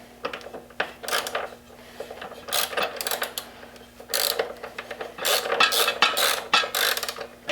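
A ratchet drives a T40 Torx bit on a bracket fitted to a Ducati Scrambler motorcycle, making bursts of quick, close clicking as it turns, with pauses between the runs of clicks.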